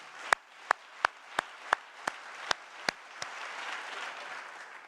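Sharp, evenly spaced claps ring out in a steady rhythm, about eight or nine, then spread into a softer wash of applause from an audience at a city's State of the City address.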